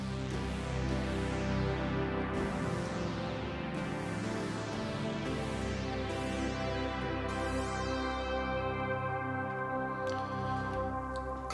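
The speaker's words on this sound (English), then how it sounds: "Classic early 80s Jupiter sound" Roland Zenology Pro software synth playing a classic early-80s Jupiter-style preset from the Synth Legend bank: lush sustained polyphonic chords with bright, swelling harmonics, changing every couple of seconds, played alone at steady volume.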